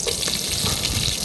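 Whole star anise, cloves, cinnamon stick and bay leaf frying in hot oil in a pan for a Telugu chicken curry, a steady close crackling sizzle with no talk.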